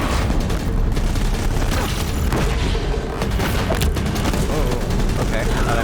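Dense barrage of booming gunfire and explosions in Horizon Zero Dawn's final battle, a loud, unbroken roar of blasts with a voice talking over it.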